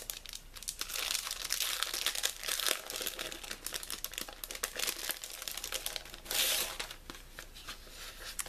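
Paper and envelopes from a stationery pack crinkle and rustle continuously up close, with handling noises that swell in a few louder bursts.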